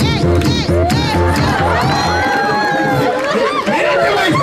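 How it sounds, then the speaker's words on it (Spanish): Audience at a children's clown show in Mexico City shouting, cheering and clapping loudly and continuously, with excited children's voices and a host talking over the crowd. "¡Palmas y gritos!"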